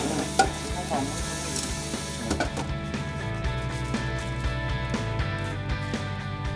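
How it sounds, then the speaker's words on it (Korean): Spicy squid stir-fried in a large batch in a ship's galley, with continuous sizzling and the clatter of a stirring utensil against the pan over a steady low machinery hum. "고생하는 선원들을 위한 또 다른 특미는 매콤한 오징어 볶음"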